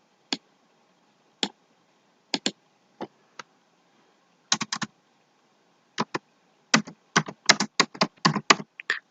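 Typing on a computer keyboard to enter text into a shape in MS Word while making an ID card, sparse crisp key clicks at first, then a quicker burst of keystrokes, close and alone.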